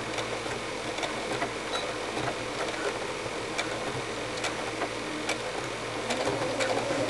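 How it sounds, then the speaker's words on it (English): A sewing machine stitches backwards through a martingale dog collar, giving a fast, steady mechanical whirring close up with faint ticks and no pauses. "keep sewing backwards"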